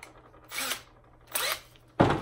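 A power drill drives screws into a plastic ice fishing sled in three short bursts, each a quiet whirring spin separated by pauses, the last one sharper and louder.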